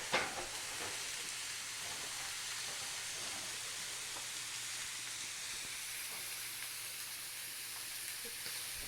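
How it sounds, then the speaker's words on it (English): A New York strip steak seasoned with salt and black pepper sizzles in a pan, a steady close frying hiss that holds evenly throughout with no talking. "so got the sizzle going"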